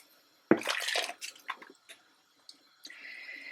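Washed, soaked rice tipped into a pot of boiling water while cooking sweet mutanjan, giving a sudden wet splash followed by several short bubbling squishes and drips, close and fairly loud with no talking.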